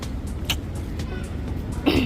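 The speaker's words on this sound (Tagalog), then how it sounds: "Super traffic, guys." Heavy night traffic on a road in Kuwait rumbles steadily with a low engine drone, a couple of brief sharper swells of passing vehicles rising over it.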